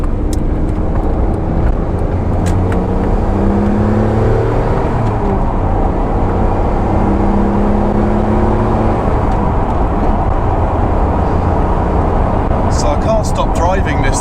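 Noble M12 GTO-3R sports car driving on country roads, a steady engine drone with road and wind noise heard from inside the cabin while someone talks over it.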